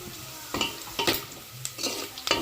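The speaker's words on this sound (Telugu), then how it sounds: "ఇవన్నీ అయితే బాగా బ్రౌన్ కలర్ వచ్చేదాకా ఫ్రై చేసుకోవాలా" Curry leaves and spices fry in oil until brown, giving a low steady sizzle broken by a few clanking stirs of a utensil against the pan. The sound is close and fairly soft, and there is no talking.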